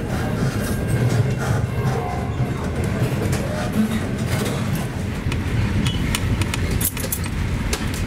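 The Overland passenger train rolls steadily on rails, a continuous loud rumble with faint rhythmic clicks, heard from inside a carriage.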